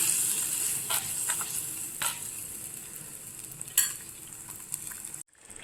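Fish egg curry bubbles in a pan as a spoon stirs it, with scraping taps and clinks over a soft simmering hiss before the sound cuts off abruptly near the end.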